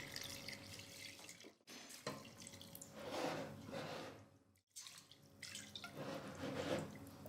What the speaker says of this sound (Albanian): Shtojmë edhe ujin.